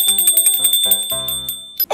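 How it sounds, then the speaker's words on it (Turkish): A bell rings at a school, rapid repeated metallic strikes in short bursts with a bright ringing tone that fade out near the end, loud and close. "Evet bakın çocuklar, zil de çaldı."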